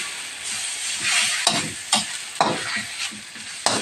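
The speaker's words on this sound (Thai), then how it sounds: "จะผัดหมูให้สุกกับพริกแกงนะคะเราก็จะคั่วไปเรื่อยๆ" Pork being stir-fried with curry paste in a pan, a steady close sizzle broken by several sharp scraping stirs of the spatula, with no one talking.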